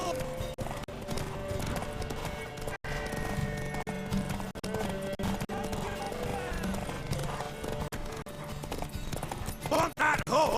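Rhythmic clip-clop of horse hooves in The Witcher 3 runs steadily throughout, with a horse whinnying near the end over game-style background sound.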